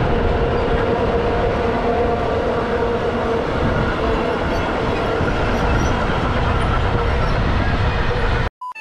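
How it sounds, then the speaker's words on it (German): A very long train rumbles past along the Rhine in the Upper Middle Rhine Valley, a loud, continuous roar of rolling wagons close by, ending abruptly. "wie kann ein Zug nur so lang sein?"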